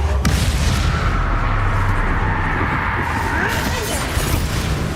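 A fiery spell blast in the Hogwarts Legacy video game, a loud sustained roaring burst with low rumble filling the whole moment, no talk over it.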